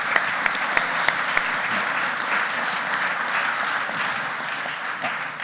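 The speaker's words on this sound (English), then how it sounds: "So I just really wanted to start with a quick round of applause for Julie." Audience round of applause at a ceremony commemorating the 250th anniversary of the New Jersey Legislature's first meeting, steady sustained clapping of moderate loudness with a few sharper individual claps standing out near the start.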